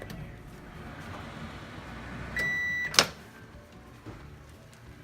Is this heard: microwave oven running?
yes